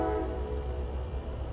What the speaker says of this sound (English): Yes, Michael, it's a train.